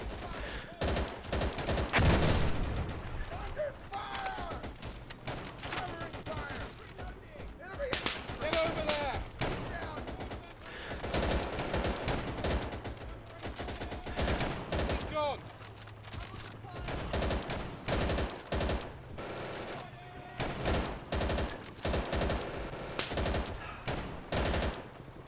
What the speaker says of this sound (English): how much recoil these submachine guns have